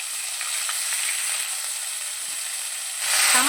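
Ginger paste sizzling in hot oil for a soybean and potato curry, a steady close, bright frying hiss throughout that swells louder near the end.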